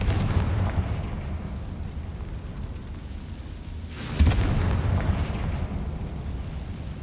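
A Confringo fire spell explodes in the game Hogwarts Legacy: a sudden heavy blast with a deep rumbling boom rises over a constant low background roar, then fades into rumble.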